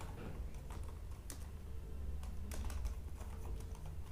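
Rapid clicking of keystrokes on a computer keyboard as Python code is typed, close and steady, with irregular bursts and louder taps over a low background hum.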